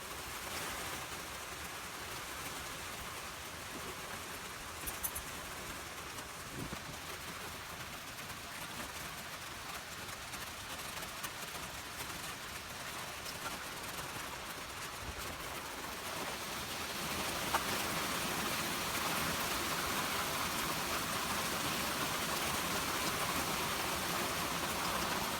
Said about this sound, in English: while it was still raining outside